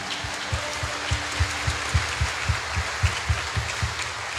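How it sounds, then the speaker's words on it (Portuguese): A church congregation claps along in a steady rhythm, about two to three claps per second, fairly distant and soft, with the reverberant hall tone of a Sunday Mass. "Pode aplaudir mais forte."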